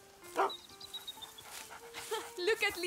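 A large dog in the medieval stealth game A Plague Tale: Innocence pants with short breathy huffs and an occasional yip, close by, while people talk over it.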